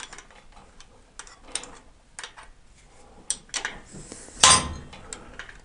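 A wrench clicks and ticks in sparse, irregular bursts while working on Harley Davidson Twin Cam adjustable push rods, close and fairly quiet, with one louder metallic knock near the end.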